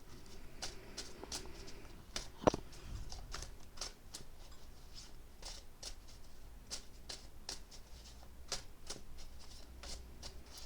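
Tarot cards being shuffled in repeated quick riffles, close by and fairly quiet, with one sharper tap partway through and no talking.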